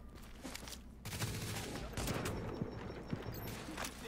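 Scattered enemy gunfire in The Division, a fusillade of shots at moderate distance with some louder pops, under a busy mix of game sounds and someone talking.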